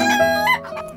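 A chicken's call, a single loud, tonal squawk lasting about a second, close to the microphone with no talking.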